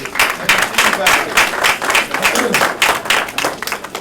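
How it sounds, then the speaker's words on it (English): A round of applause at a ribbon-cutting ceremony for a new college facility, with uneven bursts of clapping and a voice speaking through it. "Please give her a round of applause."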